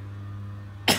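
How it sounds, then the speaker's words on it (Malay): A single sharp cough bursts out at the very end, loud and close, after a near-silent stretch with a steady low hum. "Sorry batuk sikit."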